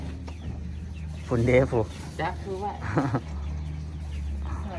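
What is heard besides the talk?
ducks calling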